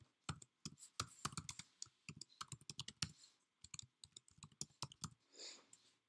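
A computer keyboard is typed on in quick, irregular bursts of crisp clicks while a recipient's name is entered, close and quiet with no talking.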